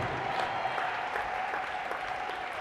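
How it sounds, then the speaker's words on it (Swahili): A church congregation applauding and cheering, with dense, continuous clapping and crowd noise throughout and no pauses. "Mpe Yesu makofi na shangwe"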